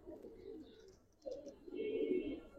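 A Giribaz or coloring pigeon in a loft gives soft, low coos in two short bursts, near and fairly quiet, with faint chirps from other birds in the background.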